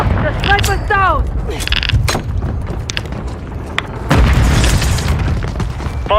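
A grenade bursts with a loud, sharp boom in a Call of Duty: Modern Warfare III multiplayer match, set amid busy battlefield noise, clanks and a heavy second blast near the end, with voices talking over it.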